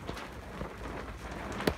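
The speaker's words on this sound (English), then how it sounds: "it is absolutely, or it has been, raining quite heavily" Heavy rain drums steadily on a shed and a tarp rigged across its doors, a dense, even patter with a few sharper drips, moderately quiet and with no talking.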